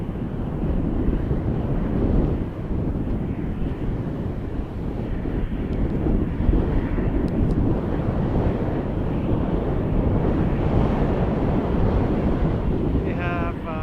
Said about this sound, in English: let's enjoy another landing